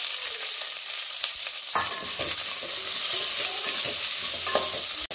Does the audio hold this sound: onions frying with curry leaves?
yes